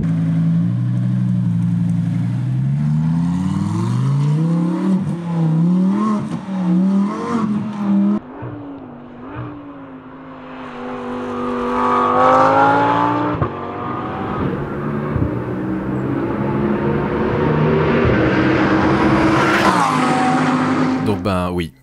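A Caterham race car on a track, its engine rising and falling through hard acceleration and braking, loud and close from inside the car, with voices talking over it.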